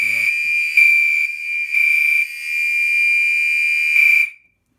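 Fire alarm smoke detector sounding during a board system test, a loud steady high-pitched electronic tone pulsing in several long segments before cutting off, with brief talk at the start.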